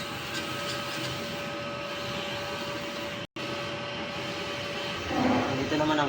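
An inkjet printer runs a nozzle test, giving a steady mechanical whir and hum with a faint tonal whine, a momentary dropout, then a slightly louder stuttering print-head motion near the end.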